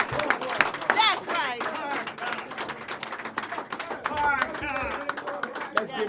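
A gathered audience claps and cheers for Minister Louis Farrakhan at a speaking event, steady scattered applause mixed with shouts and excited voices talking over it throughout.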